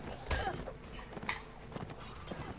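Horse hooves clip-clopping in The Last Days of the Third Age, a Rohan rider's mount moving in irregular thuds and clatters under the game's battle ambience, with someone talking over part of it.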